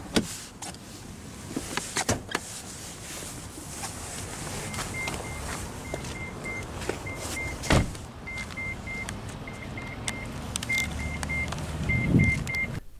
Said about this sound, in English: roll down the driver's window. All 4 windows are fully automatic.